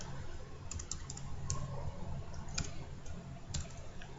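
Scattered keystrokes on a computer keyboard, a few sharp clicks spaced irregularly over a steady low background hum, fairly quiet and with no voice.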